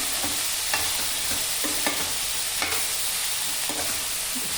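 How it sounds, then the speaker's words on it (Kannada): Chopped bottle gourd sautéing in oil, a steady close sizzle broken by soft scraping stirs every second or so, with no voices. "ಎರಡು ನಿಮಿಷ ಬಾಡಿಸ್ಕೊಳ್ಳಿ ಸೋರೆಕಾಯಿನ ಎಣ್ಣೆಯಲ್ಲಿ"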